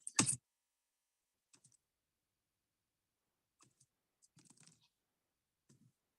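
Sparse keyboard clicks on a computer keyboard in a classroom setting, a sharp burst at the start followed by scattered light taps and short typing runs, quiet and close with no talk.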